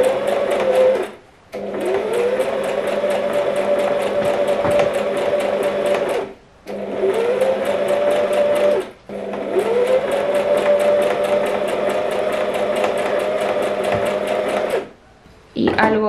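A sewing machine runs a first seam on old skirt fabric being remade into a corset, humming steadily in long close bursts with brief pauses between runs.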